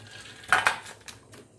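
A cooking pot of dal being lifted and set down, giving two quick metallic clanks close by, followed by a couple of fainter knocks, with no talking.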